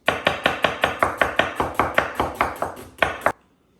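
A knife slices through an onion on a cutting board with about fifteen crisp, evenly spaced chops, close and loud, stopping abruptly after the last two cuts.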